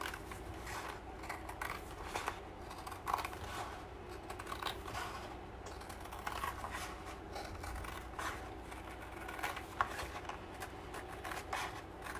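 Steady rustling and crisp snipping textures run throughout, with small clicks and handling noises close by, suggesting scissors cutting through material without any talking.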